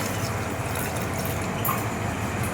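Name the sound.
pouring water into mutton chukka cooking pot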